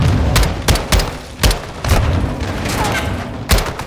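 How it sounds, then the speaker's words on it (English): Grenades burst in the Call of Duty Modern Warfare II campaign, a rapid string of loud booms and sharp blasts at irregular intervals amid gunfire, with no speech. "Incoming! Take cover! They're launching grenades!"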